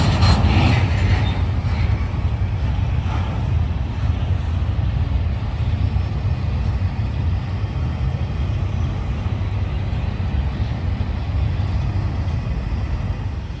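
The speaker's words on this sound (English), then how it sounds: "The train would briefly stop in front of the Model Railroad Club after the lead locomotive went by" Freight train 276 rumbles past steadily with its locomotives, a loud continuous low roll of rail wagons that holds even for the whole stretch, near and alone without voices.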